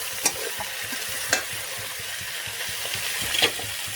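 Onions and vegetables fry for sambar in a pan with a steady close sizzle, while a spoon stirs and scrapes with a few sharper clinks against the pan.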